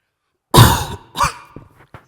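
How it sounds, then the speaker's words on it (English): A person coughs once hard, then gives a second cough and a few smaller throat-clearing bursts, close and loud in an otherwise quiet room. "I'm going to cough."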